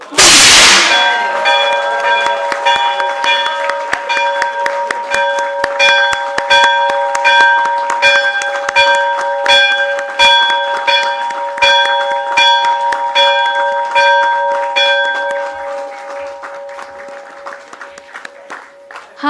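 Bell ringing at a stock exchange listing ceremony for GNG Electronics Limited, a loud, close, rapidly struck metallic bell with ringing tones sustained for many seconds amid applause, fading toward the end.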